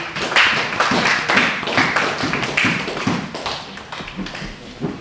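Church congregation applauding, a steady run of close, fairly loud claps with a rhythmic, tapping quality and no voices.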